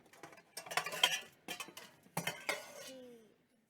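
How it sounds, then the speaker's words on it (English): Cooking pans and utensils clatter as they are taken out and handled in a kitchen, several quick metallic clanks and clinks at close range, with no talking. "So, okay, let me get the pans."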